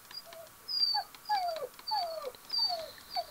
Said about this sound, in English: Shush, dog.